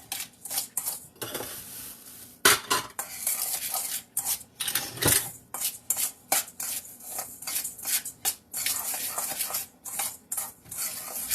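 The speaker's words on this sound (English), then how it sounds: "So I'm going to just stir those things together." A spoon stirs graham cracker crumbs and sugar together in a bowl, making close, irregular scraping and clinking strokes in quick repeated bursts with no speech.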